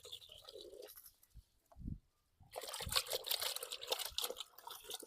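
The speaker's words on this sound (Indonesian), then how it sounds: "Ini kita tuangkan air hangat dulu." Warm water pours and trickles over a goat being washed, soft liquid splashing in short bursts, a brief gap, then a steadier dribbling stream, faint and close.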